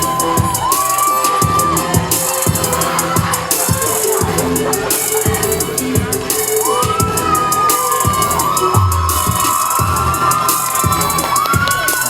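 At the Mister BGPU 2023 pageant, as the winner is named, a large hall erupts in loud applause with cheering and whoops over bright stage music, a sustained roar of clapping and shouting.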